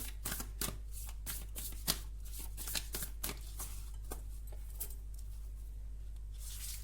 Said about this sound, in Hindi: ये आपकी गाइडेंस कार्ड है यूनिकॉर्न गाइडेंस कार्ड की तरफ से।